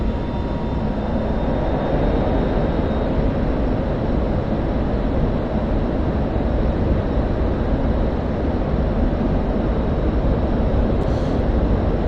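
An F-16C jet in DCS roaring through its takeoff run, a steady, dense broadband engine rumble that holds loud and unbroken throughout, with no talking.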